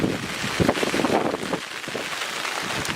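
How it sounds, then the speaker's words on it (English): Heavy rain pours down in the outer bands of a tropical storm during Hurricane Florence. It makes a loud, steady, broadband wash with gusty wind buffeting the microphone throughout, and no voices. "now rain is coming down real hard"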